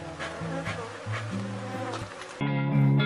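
Forager honey bees buzz around hive boxes in the afternoon, a steady, dense droning hum of many insects close by that grows louder and fuller toward the end.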